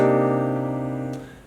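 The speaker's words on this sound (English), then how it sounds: "it's going to be a voicing for a minor 9 chord, which sounds like this." Piano sounding a minor 9 chord voicing, a single sustained chord ringing clearly and slowly decaying, with no talk over it.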